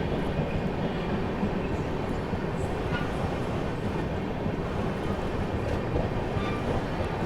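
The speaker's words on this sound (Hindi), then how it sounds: "यहाँ पर अपनी ट्रेन जो है नर्मदापुरम स्किप कर रही है" Telangana Express, a passenger train, runs at speed with a steady, dense rumble and rattle that carries on without a break. Occasional faint clicks rise above the roar.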